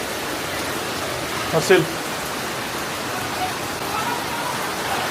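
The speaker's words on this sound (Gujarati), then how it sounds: "અહીંયા મસ્ત વરસાદ આવે છે." Steady rain falls outside in a soft, even wash of noise, with a brief voice speaking once near the middle.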